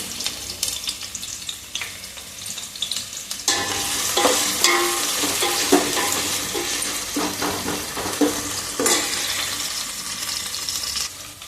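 Chicken for biryani sizzles in hot oil as it is browned and stirred in a pan, with a steady crackling fry broken by repeated scraping and clattering strokes of a spoon against the metal.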